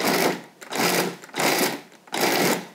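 Food processor pulsing cold shortening and flour for a tomato ricotta tart crust, four loud bursts of whirring motor separated by short pauses.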